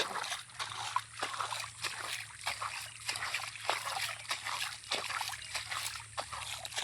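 Someone wades through the shallow Shilabati river, giving a steady run of soft sloshes, splashes and trickling water at a walking rhythm, close and fairly quiet.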